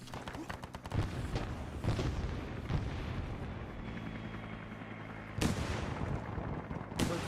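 In the Arma 3 S.O.G. Prairie Fire setting, loud bursts of gunfire crackle around a heavy frag grenade blast, followed by sharp booming impacts and rumbling echoes, with faint voices underneath.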